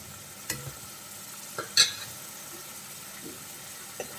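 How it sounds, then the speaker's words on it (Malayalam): Coriander, chilli and turmeric powders being stirred and sautéed on low flame for a malai mushroom curry: a faint soft sizzle with a few light spoon taps and scrapes, quiet and close, no talking. "ഒന്ന് ഇളക്കി കൊടുക്കാം. ലോ ഫ്ലെയിമിൽ ഇട്ടിട്ട് നമ്മൾ ആ പൊടികളുടെ പച്ചമണമൊക്കെ മാറുന്നത് വരെ 1 മിനിറ്റ് ഒരു നന്നായിട്ട് വഴറ്റി കൊടുക്കാം."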